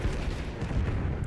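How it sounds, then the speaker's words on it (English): Napalm strike in Call of Duty Black Ops 6: a dense, loud, continuous low roar of burning and explosions, rumbling steadily through a very short stretch. "Napalm strike inbound."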